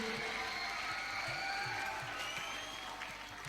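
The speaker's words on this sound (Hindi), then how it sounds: "एक जोरदार ताली से हमारे अतिथियों का स्वागत कीजिए" An audience at a national theatre festival applauds to welcome guests, a dense wash of clapping with a few scattered cheers, steady then easing off slightly at the end.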